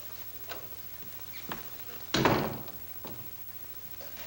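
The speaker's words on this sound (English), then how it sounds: "Shut the door." A door is shut in a 1940s crime drama, making one solid thump mid-clip with a short rumble after it, set among faint scattered room knocks.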